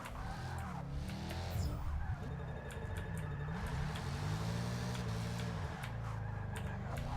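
Tires skid and squeal as a car drifts sideways in Forza 6 Apex, with a steady engine drone beneath the sustained slide and some shifting pitch as the car slips across the track.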